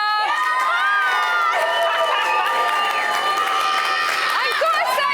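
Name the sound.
studio crowd cheering as evicted Big Brother housemate appears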